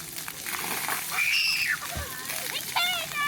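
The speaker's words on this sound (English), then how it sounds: "at Town Beach, you'll find an awesome little free water park," Children splash and play in water at a small free water park at Town Beach in Broome, with close sloshing and splatter under excited kids' voices and shouts.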